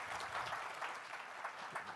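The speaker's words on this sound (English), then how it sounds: "You can clap for that" Audience clapping at a youth leadership event, a brief burst of many hands at moderate distance, fairly soft and steady with faint crowd murmur mixed in.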